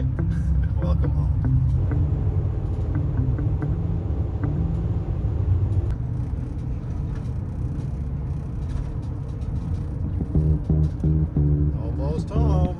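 Steady low road rumble fills the cabin of a van driving into slow traffic near the Connecticut Welcome Center, a continuous engine and tire drone throughout with passing vehicle swells and a person talking over it.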